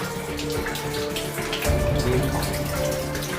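Water gushes steadily out of a pipe into a garden plantation, a continuous broadband splashing rush that holds at the same level throughout, with a low hum underneath.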